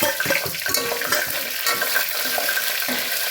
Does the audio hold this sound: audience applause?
no